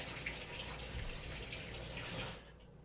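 Tap water runs steadily over homemade alien-style eggs being rinsed, a continuous soft hiss of flowing water that cuts off near the end, faint and close.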